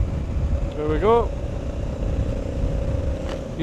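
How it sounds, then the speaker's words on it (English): A car approaching on a country road in the Lake District, its engine note rising briefly in a short pass near the middle, over steady road and cabin noise. "You do know there's a car coming"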